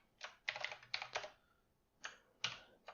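Someone types on a computer keyboard in quick bursts of clicking keystrokes, pauses for a moment, then resumes. The clicks are close, clear and fairly quiet, with no talking.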